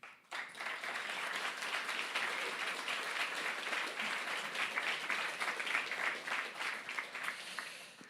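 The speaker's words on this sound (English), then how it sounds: "let's welcome Mick Griffin with warm applause" An audience gives warm applause to welcome a speaker at a startup sales talk, a full, sustained wash of many hands clapping up close, starting abruptly and rolling on to the end.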